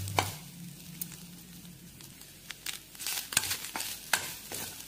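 Cashews are stirred into a coconut filling for kolukattai in a pan: close, irregular scrapes and taps of a spoon against metal, building into a busier stretch of strokes, with no talk.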